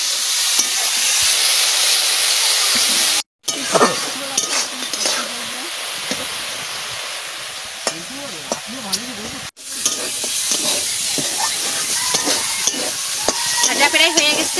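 Chicken fries in a pan with small green chillies, giving a continuous sizzle and hiss while a spoon stirs and scrapes in irregular bursts, broken by two brief cuts.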